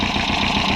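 A buggy engine with a freshly swapped exhaust and a 2-litre engine runs close and loud, a dense, steady rumbling idle for a brief moment.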